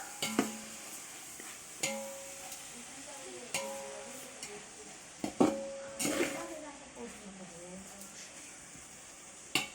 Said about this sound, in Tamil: கல்லுப்பு போட்டிங்கன்னா சீக்கிரமாக வெங்காயம் வதங்கிரும். ஸோ இதை நல்லா வதக்கிக்கலாம்